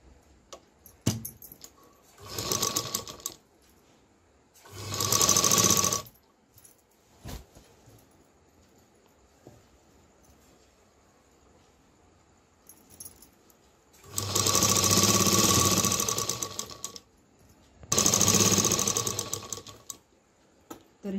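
A sewing machine stitches a sleeve onto a garment in four separate whirring bursts of a second or two each. Quiet pauses with small clicks and handling noises fall between the bursts, and no one speaks.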